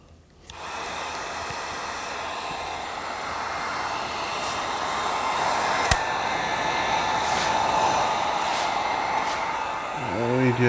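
A heat gun blows a steady, airy whoosh as it shrinks tubing over wiring for a 2003 Chevrolet Silverado 4L60E neutral safety switch. It builds gradually and holds close and constant, with a sharp click midway and faint speech in the background.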